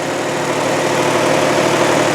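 A 2003 Saturn Ion car engine idles with a steady, low, rumbling drone, close by and constant, with no other sounds.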